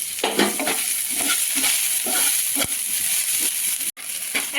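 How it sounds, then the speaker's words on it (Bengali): Chopped onions and four or five green chillies frying over high flame in a pan, a steady close sizzle with scraping stir strokes and clatter throughout, no talking. "এবারে পেঁয়াজটাকে আমি ভেজে নিচ্ছি আর কেরা কাঁচা লঙ্কাও দিয়ে দিচ্ছি চার পাঁচটা"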